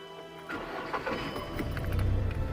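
A manual-transmission car engine cranks and catches, the low rumble building from about half a second in and settling into a steady, close running drone.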